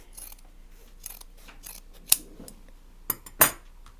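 Scissors snip through the fabric of a cross body bag, with a few sharp, distinct cuts standing out over quieter rustling and handling, close and clear without speech.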